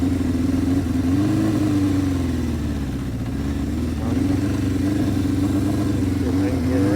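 Engine of a 1978 Honda CB550K motorcycle running rough from a fuel problem, a loud, steady droning hum with slight uneven wavering throughout, close up and without talk.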